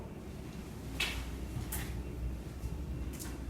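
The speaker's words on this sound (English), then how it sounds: "Did you guys hear that knock?" Inside an old stone fort, three sharp knocks ring out at irregular intervals, each a brief, crisp impact over faint background hiss.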